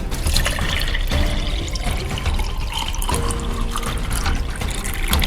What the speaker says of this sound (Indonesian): Pada saat pelayan menuang air minum ke gelas-gelas mereka